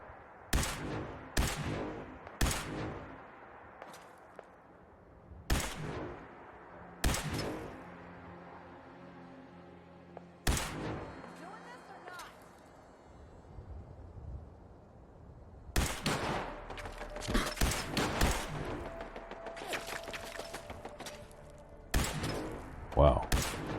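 Gunshots in Fallout 4 near a spooky mine by some cliffs, sharp single cracks spaced several seconds apart early on, then a denser flurry of shots later, with reverberating tails in between.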